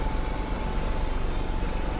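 Helicopter delivering exam papers by air: a dense, steady rotor and engine roar fills the whole moment, loud and close with no breaks.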